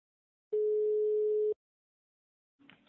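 A telephone line gives one steady, clean tone lasting about a second while a call is placed, followed by silence and then a short, faint rustle.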